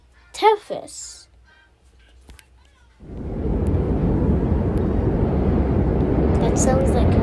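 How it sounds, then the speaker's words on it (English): A space sound recording of Saturn's moon Tethys starts abruptly after a short spoken remark, then holds as a steady, loud, airy rush like wind or breath, broad and continuous to the end. "Okay, Tethys"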